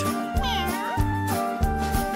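Black and white cat meows in a theme tune, a few short rising and falling cries over a bouncy tune, mixed with singing.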